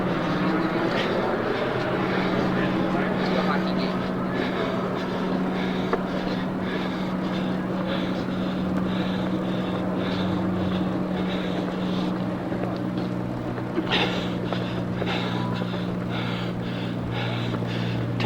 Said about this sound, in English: Helicopters overhead. News helicopters, no doubt.